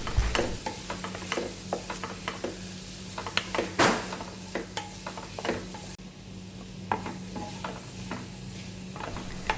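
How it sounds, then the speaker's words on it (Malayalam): Jackfruit sautéing in a pan, with a steady sizzle and repeated scraping and clinking strokes of a spoon stirring the pieces, close and fairly quiet. "അപ്പോൾ ഈ ചക്ക ഇനി ഒരു 3/4 വേവോളം നമുക്കിങ്ങനെ വഴറ്റിക്കൊണ്ടിരിക്കാം."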